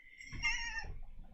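A young kitten meows in a bright, wavering cry lasting about a second, close by and fairly loud, with faint low room noise underneath.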